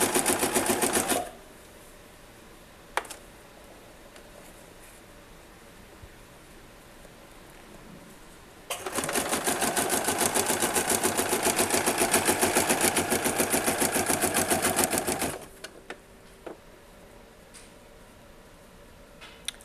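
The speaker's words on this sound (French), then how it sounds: "je continue à coudre" A sewing machine runs steadily for about six seconds as it stitches the hem of a furoshiki cloth, a dense continuous whir flanked by near-silence and a couple of faint clicks.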